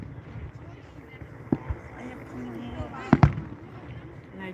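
Fireworks burst at an outdoor show, a few sharp distant pops and thuds rising over a steady murmur of nearby conversation.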